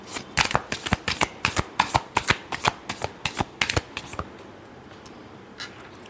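Tarot cards being shuffled by hand, a close, brisk series of riffling flutters in quick rhythm that trails off near the end, with no talk.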